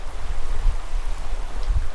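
A flowing mountain creek gives a steady, full rush of water, close and continuous with no voices over it.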